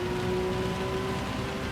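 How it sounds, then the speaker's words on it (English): Heavy rain during a wet race in Gran Turismo 7 sounds as a dense, steady hiss with an engine tone running underneath, continuous for the whole short stretch. "Will Ritaka's inters be able to cope with this heavier rain now though?"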